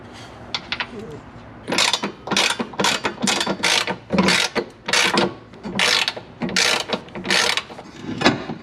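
Bolts coated with blue thread locker are driven into a Ford F150 sidestep bracket, a power driver ratcheting in a dozen or so short, sharp bursts, close and loud with brief gaps between them.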